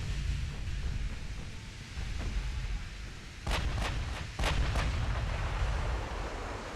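Torpedo hits strike a battleship in the naval combat game Ultimate Admiral, heard as several sharp thudding blasts in quick succession over a constant roar of ambient game noise.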